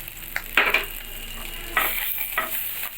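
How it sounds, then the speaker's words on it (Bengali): A spice paste of turmeric and chili powder for a rohu fish curry sizzles in a pan with water added, with a few scraping stirs of a spatula rising over a steady, soft hiss and no talk. "ভালো করে মশলাকে আমি কষিয়ে নেব।"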